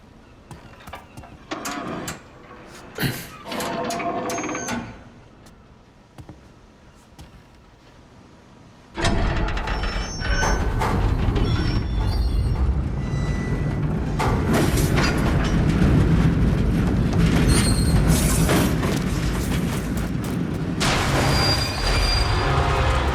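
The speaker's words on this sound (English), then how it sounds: "Some kind of fucking train?" A train rushes past in the Mafia video game, opening with scattered clanks and rattles before a loud, sustained roar of rolling wagons fills the rest of the clip.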